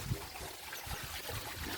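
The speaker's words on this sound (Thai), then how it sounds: "เห็นไหมมีน้ำตกด้วย" A waterfall near a resort-like walking path gives off a steady, soft rush of falling water that stays even and unbroken throughout.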